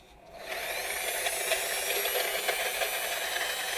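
A car polisher spins at its lowest speed setting, a steady close whirring hiss that starts up quickly and holds an even level with no voices.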